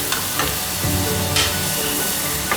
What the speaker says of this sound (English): I'll give it a nice mix